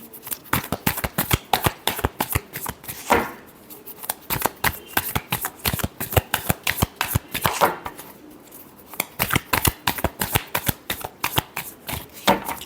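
Tarot cards being shuffled by hand, a rapid close run of crisp riffling slaps and flutters that pauses briefly twice before resuming, with no talk over it.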